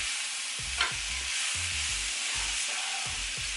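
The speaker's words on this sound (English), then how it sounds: "after the black beans are added, you're just gonna stir for about 5 more minutes" Sweet potato, peppers, onions and black beans are stirred in a sizzling pan, with a constant hiss of frying and repeated low scraping strokes of a utensil at a regular rhythm, no voices.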